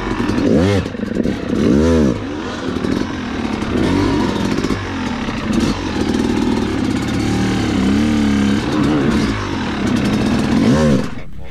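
An enduro motorcycle engine drones loudly and steadily through a hard enduro pivot turn, with repeated sharp revs and dips, close and continuous throughout.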